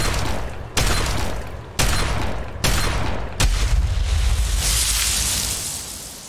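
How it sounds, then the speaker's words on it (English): Underwater explosion in the Fallout 3 video game: four heavy booming bursts about a second apart, loud and close, followed by a sustained rumbling, hissing wash. "That was the sound of it exploding into a million little pieces underwater."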